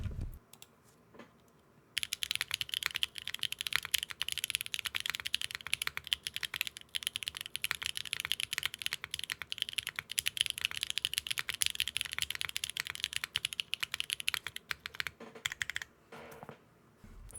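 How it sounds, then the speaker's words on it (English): A keyboard with HMX Light Tactile switches on a Neo60 Core with a carbon fiber plate and GMK keycaps is typed in a fast, dense burst of crisp clacks after a quiet start. "you are the first to hear and see these HMX Light Tactiles, highly anticipated. Quick 10-second burst for y'all."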